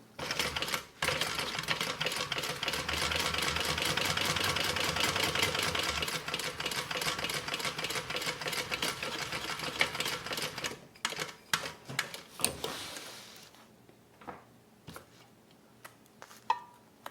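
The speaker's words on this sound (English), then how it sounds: "So go ahead and stitch this on." A sewing machine runs in a long, fast, steady stitching burst while sewing fabric for a range bag, then slows into scattered short stitches and clicks as the fabric is handled.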